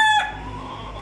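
A fighting-breed rooster gives a short, bright cluck right at the start, close and clear, then fades into quiet farmyard background with no talk.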